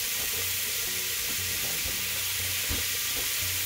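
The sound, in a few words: browning ground beef in a pan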